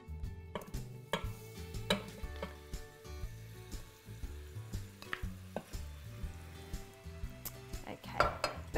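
Beef frying in a Pressure King Pro electric pressure cooker, a soft steady sizzle with repeated clinks and scrapes of stirring running through it.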